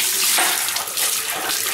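Water pours steadily from a boiler drain hose into a bucket while air is bled from a home heating system, making a close, continuous splashing gush with slight surges and no talk.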